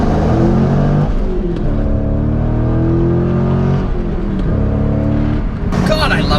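A C5 Corvette's engine revs loudly and up close. A steady, heavy rumble shifts pitch as the throttle rises and falls, running continuously for several seconds.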